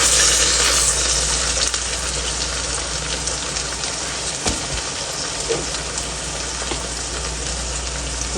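Tomato paste frying in a biryani pot of white chickpeas, a steady close sizzle with soft crackles and a few stirring knocks, strongest at the start and then settling into a constant hiss.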